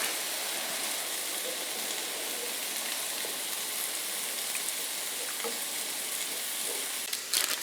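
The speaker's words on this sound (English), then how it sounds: "We're going to deglaze the bottom of the pan with the broth." Broth hits a hot pan to deglaze it and is stirred, giving a steady hissing sizzle with faint scrapes, a little louder clatter near the end.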